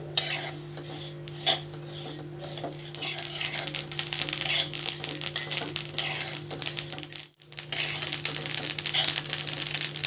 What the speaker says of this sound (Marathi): पूर्ण तिचा असा आवाज येतो ना, तड तड तड, छानपैकी अशी भाजली जाईल ती